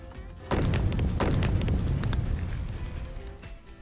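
Heavy thud of Boulder landing on the ground after his fall in the US dub of Thomas & Friends, a sudden booming impact followed by crashing, tumbling debris that slowly fades over several seconds.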